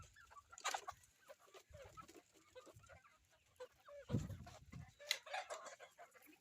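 Texas gamefowl chickens cluck in scattered, soft bursts with a few louder calls and a possible crow, fairly faint and at a moderate distance, with no talking.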